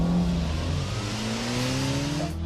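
Ford Puma engine revving hard through a handbrake turn, a loud sustained note climbing steadily in pitch over about two and a half seconds, ending with a brief sharp noise.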